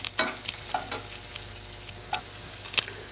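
Onions sauté in a pan for mutton curry, a soft sizzle punctuated by a few sharp scrapes and clicks of a spoon stirring, fairly quiet and close, with no voices.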